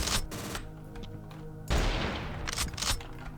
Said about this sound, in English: Let's try to take him out with the shotgun.